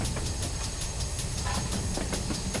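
A GWR Hall 4900 Class steam locomotive hauls period carriages on the Falmouth branch line in Train Simulator, with a fast, regular clickety-clack of wheels over rail joints under a steady rolling rumble and hiss.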